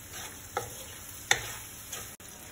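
Sausages frying in a pan for Indonesian nasi goreng kampung are stirred, giving a steady low sizzle with a few brief scraping clicks of the utensil, fairly quiet and close.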